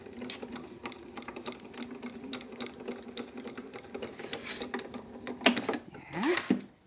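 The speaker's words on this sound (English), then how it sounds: "So we're going to go ahead and run that through to get the embossed feature to come out." A die-cutting machine crank-rolls a butterfly embossing die through on a craft table, giving a steady rapid mechanical whirring with regular clicks, a few sharper clacks near the end.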